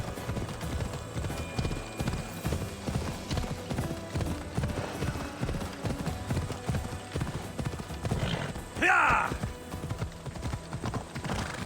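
Rhythmic clip-clop of horse hooves at a fast gallop in Assassin's Creed Odyssey, steady and close, with a brief whinny near the end.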